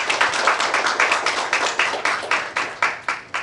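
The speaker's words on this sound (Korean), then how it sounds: "특별히 우리 김영환 목사님에게 박수 한번 보내주십시오." An audience at a theological seminary graduation and degree ceremony claps for a pastor, a small group giving rhythmic, fairly close claps that sound like a few pairs of hands beating in steady succession.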